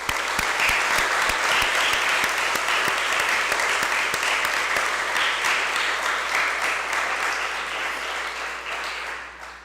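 Sustained applause from a crowd at a high school graduation ceremony, dense and steady clapping that stays loud for nearly ten seconds before easing slightly toward the end, with no talking over it.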